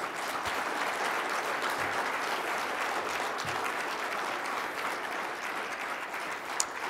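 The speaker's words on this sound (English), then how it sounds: "Let's give another round of applause to Pat Hooker." An audience at an afternoon forum session claps steadily, a dense, even wash of applause holding at a constant level for the whole stretch with no voices standing out.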